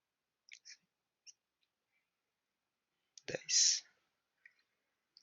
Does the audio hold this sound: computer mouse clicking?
yes